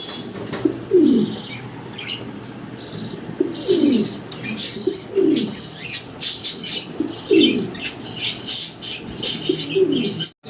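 Pigeons in a loft cooing, several low rolling coos spaced every few seconds alongside wing flaps and faint chirps, close by with a busy background.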